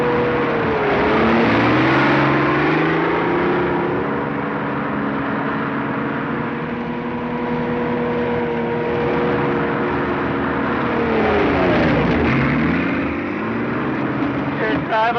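A 1941-era car being driven hums with a steady engine drone whose pitch dips and rises as it slows and speeds up, loud and continuous, with a faint voice now and then.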